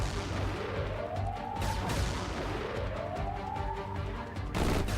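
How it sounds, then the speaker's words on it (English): Continuous roar of combat noise in the video game Xenonauts 2 with rising whining tones and a loud burst near the end, like distant rapid fire. "Oh wow, you can hear the new gunfire going off."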